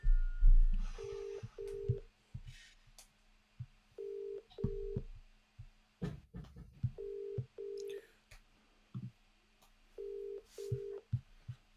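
A telephone call placed on speakerphone during a live prize draw: a few dialing tones, then repeated paired ringback tones at a steady rhythm, with faint background murmur between rings.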